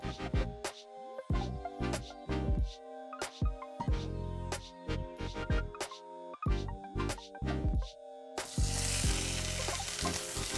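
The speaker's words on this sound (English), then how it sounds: "We're gonna let this sear until we get a golden brown color onto the skin." Sous vide chicken sears skin-down in a hot pan with close, crackling sizzle and spitting bursts, then a continuous loud hiss of frying fat in the final seconds.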